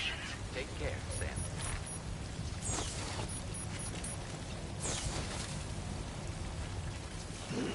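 Rain falls steadily in the game Death Stranding 2 as a soft, broad wash of patter. Several brighter bursts rise above it, and a low rumble runs underneath the whole time.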